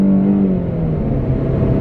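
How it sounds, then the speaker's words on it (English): A 2019 Dodge Challenger SXT accelerating hard, its engine note loud and close, rising then settling into a strong steady drone over a couple of seconds. "the acceleration is extremely punchy"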